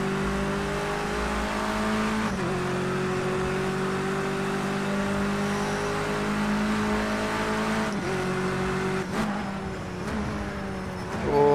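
Touring car engine in a wet race at the Red Bull Ring in Project Cars 2, a steady loud rev climbing through gears with shifts and throttle changes, other cars faintly around, no talk.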